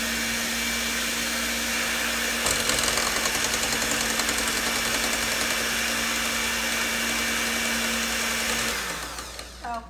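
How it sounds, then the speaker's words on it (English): A blender mixing applesauce into gluten-free pound cake batter runs loud and steady with a whirring motor hum for several seconds, then winds down at the end. "I'm going to run one more time in my blender."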